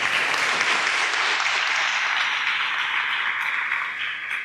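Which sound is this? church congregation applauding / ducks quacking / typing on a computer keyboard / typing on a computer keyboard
church congregation applauding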